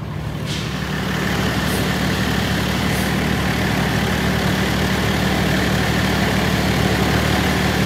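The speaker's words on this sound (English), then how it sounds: "So we got the tractor from the neighbors and we're going to see if we can pull him out" A heavy tractor engine rumbles steadily at low revs, close by, pulling a stuck bus, with a faint mechanical hiss on top and no talking.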